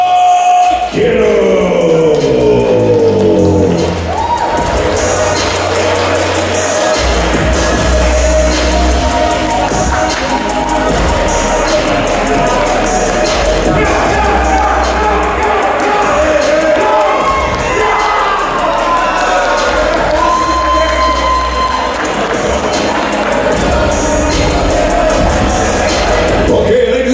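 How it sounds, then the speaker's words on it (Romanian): A crowd at an RXF 46 fight event cheers, shouts and applauds as a fighter enters, a loud, sustained roar lasting nearly half a minute with music and thumping beats running underneath. "Doamnelor și domnilor, aplauze pentru"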